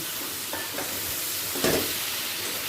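Fried potato and soybean go into sizzling masala in a pan, a continuous close hiss of frying with a couple of soft thuds and a brief louder crackle as the pieces are tipped in.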